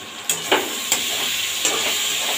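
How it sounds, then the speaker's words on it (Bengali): Chili, ginger and tomato paste with salt and turmeric fry in a pan with a steady loud sizzle, broken by a few brief stirring scrapes. "আর দিয়ে দেবো পরিমাণ মতন লবণ, আন্দাজ মতন হলুদ গুঁড়ো দিয়ে বেশ ভালোভাবে এটাকে কষাবো।"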